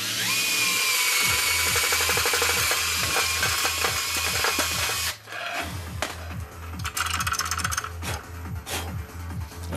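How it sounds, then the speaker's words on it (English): A power drill whirs steadily into wood, close and loud, with a brief pause midway before it resumes grinding through the material. "There's the mark. Go ahead and drill."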